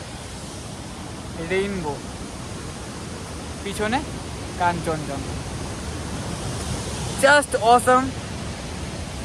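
A waterfall near Kolakham in Kalimpong gives a steady, broad rushing roar that fills the whole clip, with a voice talking in short bursts over it.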